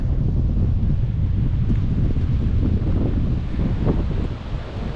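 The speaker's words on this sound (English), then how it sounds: "There's the harbor with whitecaps in it from the wind." Strong wind gusts across a harbor in Bar Harbor, Maine, buffeting the microphone with a continuous low rumble and rush, whitecapped water faintly underneath, no talking.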